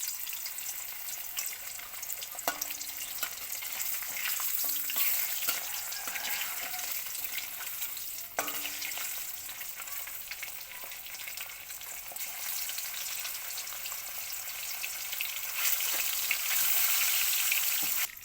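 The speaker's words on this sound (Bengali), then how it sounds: "মাছটা ভেজে নেবো, তেল দিলাম" Rohu fingerlings rubbed with salt and turmeric fry in oil, a soft continuous sizzle and crackle with a few faint clicks from the pan, no voices.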